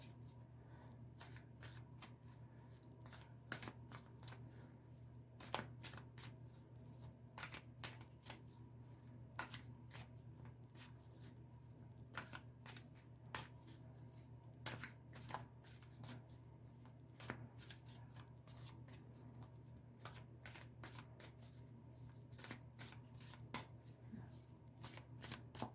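Llewellyn's Tarot cards being shuffled by hand, repeated quick riffling and sliding bursts in an irregular rhythm, close and quiet against a faint low background hum.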